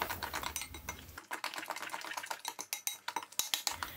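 Çemen paste being stirred with spice powder just added, a utensil scraping and clinking against a bowl in quick uneven strokes, close and fairly quiet, with no talking.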